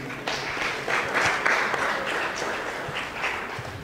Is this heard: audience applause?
yes